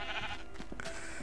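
A quiet sheep bleat from the video game Minecraft, brief and faint over a low background hum.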